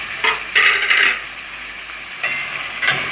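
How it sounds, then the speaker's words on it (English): Butter beans being stirred gently into cook-up saltfish in a pan, a few close, soft scraping bursts of the spoon against the pot over a faint sizzle, with short pauses between strokes. "Stir it gently because you don't want the butter beans to like break up"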